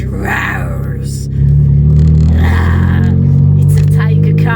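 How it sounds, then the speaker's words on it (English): A car engine rumbles steadily after starting downhill, following a flat battery from hazards left on, growing louder partway through while a person talks over it. "The car actually started down the hill, and you can hear it now."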